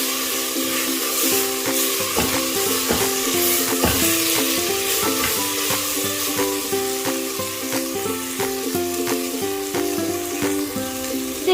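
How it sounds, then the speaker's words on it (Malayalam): Tomato masala for a Kerala-style chicken curry fries in a pan while being stirred, giving a loud, constant close sizzle with scraping spoon strokes throughout. "ഇതിലേക്ക് നമുക്ക് ഒരു 5 മിനിറ്റ് കൂടെ ഇളക്കി കൊടുക്കാം."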